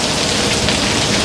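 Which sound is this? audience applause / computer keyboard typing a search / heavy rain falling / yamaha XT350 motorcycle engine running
heavy rain falling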